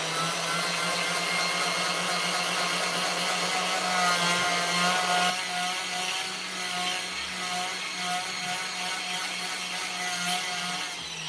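A sanding roll ports a Honda Type R intake manifold with a loud, continuous abrasive whine. The pitch shifts slightly about halfway through as the grinding carries on without talk.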